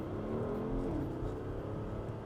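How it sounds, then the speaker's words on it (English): A 2024 Porsche Cayenne S in sport mode with its exhaust baffles open, engine revving hard with a rising then falling throttle pitch, loud and close, a steady rumbling roar throughout. "it does open up the exhaust baffles, which, let me show you guys what this thing can kind of do if we give it some throttle"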